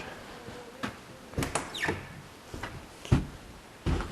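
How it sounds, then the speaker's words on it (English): Several dull thuds and knocks of doors being shut, spaced irregularly, fairly close, with a scraping slide between them in a quiet space. "we got to close the doors"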